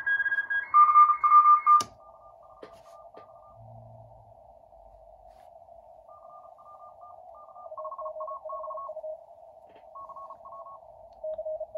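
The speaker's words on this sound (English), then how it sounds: "Without the filter, a lot of other signals in there." Several Morse CW signals chirp and overlap on a uBITX transceiver with no filter fitted, steady keyed tones of different pitches pulsing at once over faint static, with a brief loud burst near the start.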